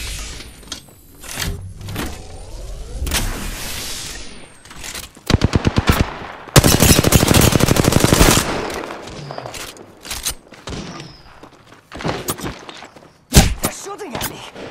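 Automatic weapon fire from the battle royale game Apex Legends, loud rapid bursts of shots in several volleys with thumps between, while a person talks over the action.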